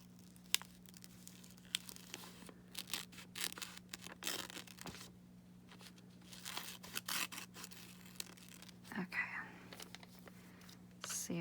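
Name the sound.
cutting paper for a collage art journal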